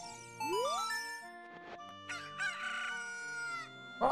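A cucco, the chicken of the Zelda game Ocarina of Time, crows a loud, clear cock-a-doodle-doo with a rising call, followed by bright chiming game jingles and a short final burst.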